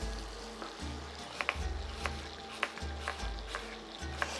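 Apples fry in butter and sugar in a pan for a cake, giving a low, steady sizzle with a few sharp clicks and light taps of a utensil, close and moderately loud, no speech.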